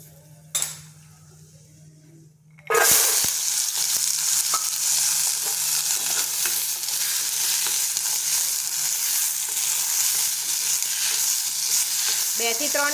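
Oil and turmeric sizzle steadily in a pan while a spoon stirs and scrapes against the metal, starting after a short quiet lead-in with a couple of soft clinks, then a continuous loud frying hiss with no talking.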